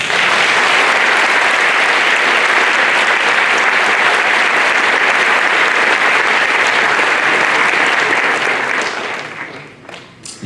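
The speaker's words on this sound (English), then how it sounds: "I think it might be a good time to give them a round of applause" Graduation audience applauding teachers and staff: loud, dense, sustained clapping from a large crowd that runs unbroken for about nine seconds, then tapers off quickly near the end.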